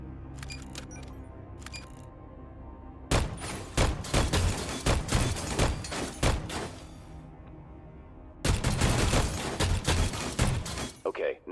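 Rifle fire rings out at a video game shooting range, with rapid bursts of sharp shots in dense clusters, separated by a few quieter gaps, loud and close.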